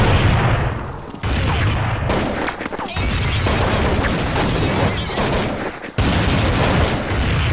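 Gunfire in the online shooter game Counter Strike Online, dense loud bursts of shots and booms that run almost without a break, cut off by two short drops to near silence.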